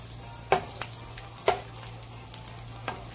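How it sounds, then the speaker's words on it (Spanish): Garlic and onion fry in a pan with a soft steady sizzle, marked by a few sharp clinks and scrapes of stirring, heard faint and close with no talking. "Miren, el ajo y la cebolla ya se están friendo bien para ponerle la salsa aquí."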